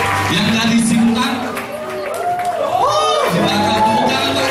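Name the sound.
applause from a church congregation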